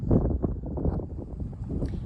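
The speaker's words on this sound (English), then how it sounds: "It is so windy" Wind buffets and rumbles against the microphone in low, uneven gusts on a farm, with no clear voices.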